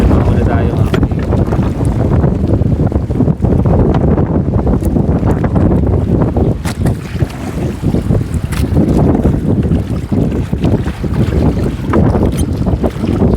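Heavy sea waves wash around a small fishing boat at sea, a loud constant roar of water with strong wind buffeting the microphone and low rumbling, thick and unbroken throughout.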